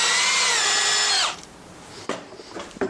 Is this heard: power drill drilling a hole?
yes